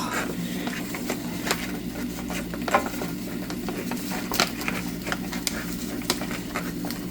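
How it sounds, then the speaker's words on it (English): A wooden spoon stirs a carob chocolate mixture, giving a quiet, continuous scraping and soft sticky patter with small scattered clicks, no voices. "Just have to stir it up a little bit."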